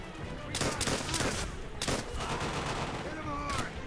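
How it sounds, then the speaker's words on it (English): Trench gun shotgun blasts in Call of Duty: World at War, several sharp loud shots a second or so apart amid other gunfire and battle noise, with someone talking. "that trench gun is just tearing through them"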